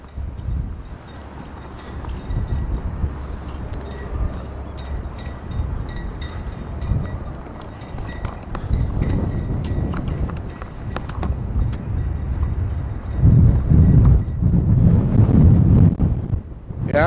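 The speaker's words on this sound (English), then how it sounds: "it sounds all right, because it is windy out" Strong outdoor wind buffets a microphone during a public live stream on a windy day, a continuous rumbling gust that swells louder near the end, with faint scattered background sounds and no clear talk.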